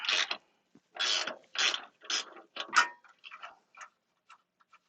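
A gear wrench ratchets on lock nuts while an inducer fan is replaced on a Burnham PV205/PV206 boiler, heard as rapid close clicking bursts separated by short pauses and tapering into sparse ticks.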